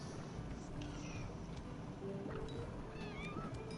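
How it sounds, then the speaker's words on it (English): A cat meows faintly through a door, a few muffled, rising cries over low background noise. "that's my cat outside the door wanting in."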